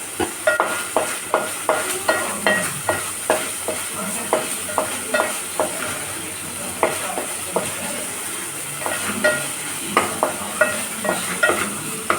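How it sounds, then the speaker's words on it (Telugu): Brinjal frying in oil in a pan over a low flame, with a continuous close sizzle and regular spatula taps and scrapes recurring roughly every half second, no talking. "ఇది మంచిగా ఫ్రై అవుతూ ఉంటుంది"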